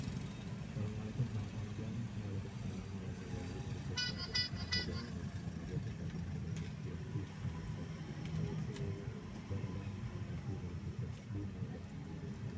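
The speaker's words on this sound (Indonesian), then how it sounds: "jalan Palembang lah, macet minta ampun lah. Mobil 3-4 baris" Several car horns toot in short bursts from the middle distance over a constant rumble of idling engines, as heavy traffic sits jammed on a Palembang city street at night on New Year's Eve.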